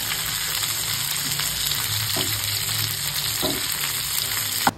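Giant freshwater prawns fry in a pan with a steady, close, loud sizzle throughout, broken by a few soft stirring clinks and a sharp tap near the end.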